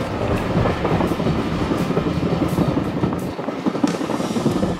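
Inside a moving first-class train carriage, the wheels beat out a rhythmic clickety-clack over a loud, steady rumble, with the rocking cadence repeating through the whole stretch.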